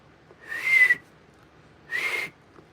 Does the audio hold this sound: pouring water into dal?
no